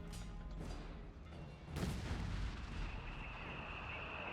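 Heavy machine guns fire in a Company of Heroes 3 battle, mixed with booming explosions. A strong blast lands midway, the noise stays dense and rumbling throughout, and no one speaks.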